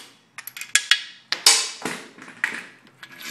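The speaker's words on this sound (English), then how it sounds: "Remove your main cap bolts." Main cap bolts are being loosened on a Chevy 383 stroker engine block, giving sharp metallic taps and clicks of a wrench and socket in a quick irregular cluster, close and fairly loud, with no talk.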